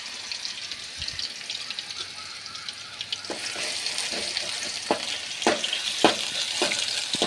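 Snake gourd seeds dropped into hot oil for a Tamil thuvaiyal chutney crackle and sizzle close by, a steady frying hiss broken by several sharp popping bursts in the second half.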